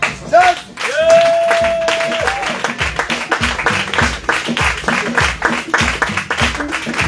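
A church congregation at a baptism service applauds with loud rhythmic clapping in a steady beat, joined by shouting voices and a held cry or whistle near the start. The clapping stays strong and close throughout.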